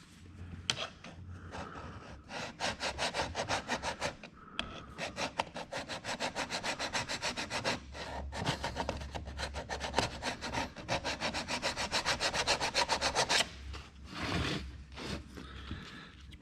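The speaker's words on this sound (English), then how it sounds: "if we give that a rub with a file" Metal file rubbed back and forth on a wooden model boat part to ease a tight spot, a close, rhythmic rasping in fast strokes with short pauses between runs.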